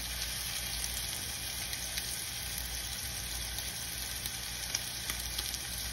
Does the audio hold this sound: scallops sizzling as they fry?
yes